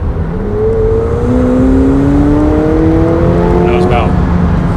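A 2018 McLaren 720S pulls hard at mid-throttle, its engine note climbing steadily in a smooth, linear rising drone over about five seconds. Loud in-cabin tone over a steady road rumble.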